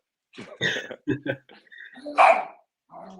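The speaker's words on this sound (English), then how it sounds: "you're about to hear my dogs go crazy because my wife is coming in" Several dogs bark in short excited bursts close by indoors, with a person's voice mixed in among the barks.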